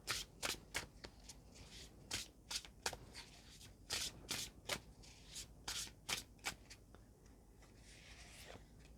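Tarot cards being shuffled by hand, a series of quick riffling bursts in an irregular rhythm, close and soft, with no talking.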